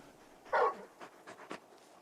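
A big hound from the Final Fantasy 16 video game makes one loud, short breathy burst near the start, then fainter huffs of panting follow. No one speaks.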